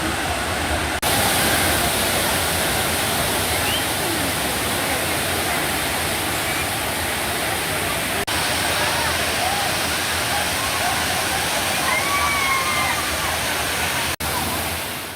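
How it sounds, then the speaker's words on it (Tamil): Kumbakkarai Falls in Theni roars with heavy, increased water flow, a loud, steady, unbroken rush of falling water that carries on for the whole stretch. "தேனி கும்பகரை அருவிக்கு நீர்வரத்து அதிகரிப்பு"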